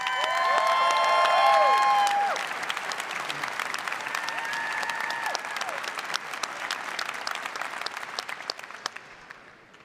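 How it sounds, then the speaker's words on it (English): Sustained applause from a graduation ceremony audience at a 2017 university commencement, loud and dense from the start, with scattered cheers and whistles early on, then steady clapping that slowly thins toward the end. "our faculty, our staff, especially the staff from Student Affairs and University Relations, deserves a round of applause."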